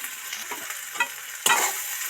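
A spoon stirs singara filling mixed with garam masala in a pan, giving a soft ongoing sizzle with a few scraping strokes and a sharper clatter midway, with no voices.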